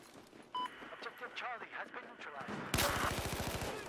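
Rapid gunfire bursts from a tactical 5v5 shooter match on the Lancang Dam map crack out loud and close near the end, following shorter shots under excited talk from players.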